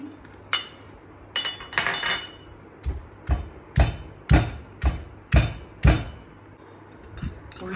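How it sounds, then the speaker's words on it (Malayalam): Onion is crushed for a chicken recipe in a series of about a dozen sharp pounding blows, loud and close, with clinking ringing impacts spaced irregularly and then more evenly, with no talking. "ഇത് നമുക്ക് ഓരോന്നോരോന്നായിട്ട് ചതച്ചെടുക്കാം."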